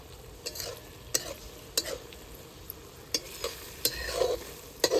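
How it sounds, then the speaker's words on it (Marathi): Masala frying in oil in a pan over a traditional wood-fired village stove for paneer tikka masala, with a steady close sizzle and repeated sharp spoon scrapes and stirring clicks throughout, no voices. "आता आपण हे सर्व तेल सुटेपर्यंत परतून घेणार आहोत"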